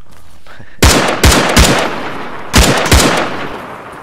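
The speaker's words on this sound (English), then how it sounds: "It's a good solid weapon. Definitely drops guys with one shot." Weapon fire in the video game Arma 3: five loud, sharp gunshots in two groups of three and two, each with a decaying echo tail. No voices.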